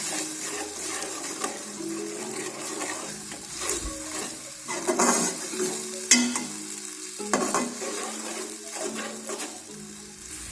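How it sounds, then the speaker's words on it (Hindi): Garlic-ginger paste and coriander powder masala frying and being stirred in a pan over medium flame, with steady sizzling, scraping stirs and a brief tap-water trickle in the background; no talking. "इसको मीडियम फ्लेम पर अच्छे से फ्राई कर लें।"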